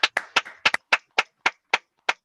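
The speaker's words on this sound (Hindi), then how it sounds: "भारतीय सभ्यता के अनुसार एक जोरदार ताली से उनका स्वागत करें।" Audience at a business plan presentation giving a welcome round of applause for a speaker, heard as about ten distinct, sharp claps in a quick uneven rhythm, close and alone without talk.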